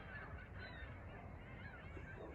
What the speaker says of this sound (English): the geese are out here making one heck of a racket.